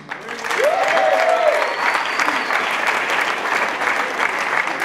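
An audience applauds at a local radio awards ceremony as a presenter comes up for a special recognition award: sustained, dense clapping that swells quickly and holds steady, with a host's voice briefly over the start.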